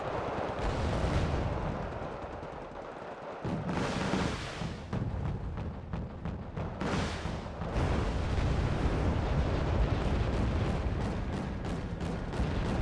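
Dense, rumbling artillery fire and explosions from the strategy video game Wargame Red Dragon, with repeated heavy booms and blasts overlapping in a continuous barrage.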